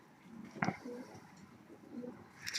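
Pigeons in a loft give a few soft, low coos and bursts of wing movement over a quiet background, with one sharper flutter midway and a brief bright rustle at the end.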